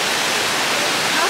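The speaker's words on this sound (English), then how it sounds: "I'm going to go over here and see this waterfall" Wagner Falls roaring at close range, a loud steady broadband rush of falling water with no breaks.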